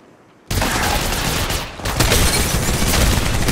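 Sustained rapid gunfire during an Apex Legends Mobile squad battle on a phone, breaking in abruptly after a brief quiet moment and continuing loud and dense, with only a short dip before resuming.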